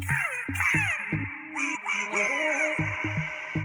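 A person's voice imitating a crow, giving a run of harsh, raspy caws in uneven bursts, loud and close with no other sound around it.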